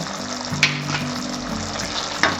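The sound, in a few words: stirring fresh cream and garam masala into matar malai sabzi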